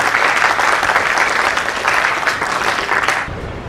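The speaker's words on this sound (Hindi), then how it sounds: "ताहिर फराज की खिदमत में एहतराम पेश करते हुए आपकी तालियों की भरपूर गूंज में उन्हें आवाज़ दे रहा हूँ।" A mushaira audience in Allahabad breaks into loud, sustained applause to welcome the poet Tahir Faraz, a steady wash of clapping that fades out near the end.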